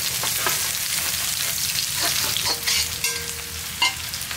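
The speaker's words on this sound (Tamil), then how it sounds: "பாருங்க ஒரு கைப்பிடி அளவுக்கு சின்ன வெங்காயத்தை போட்டுக்கலாம்." A handful of small onions drops into hot oil for a peanut masala fry, giving a steady, close crackling sizzle with a few stirring scrapes and no talking.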